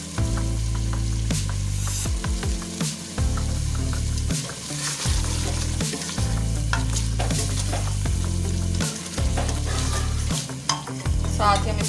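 Mutton for aloo gosht is stir-fried in oil over a high flame: loud, close, rhythmic scraping strokes of a spoon against the pan repeat every second or two over a continuous sizzle.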